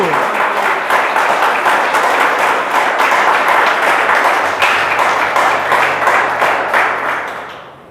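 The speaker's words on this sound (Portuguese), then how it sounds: "Você pode aplaudir o Senhor por isso." A church congregation applauds with dense, sustained clapping that holds steady for several seconds before tapering off at the end.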